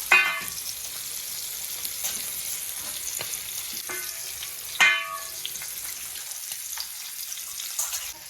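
Fish fried in a pan with Maggi masala gives a continuous bright crackling sizzle, close and steady, with a few sharper pops and clatters of a spatula, no talking.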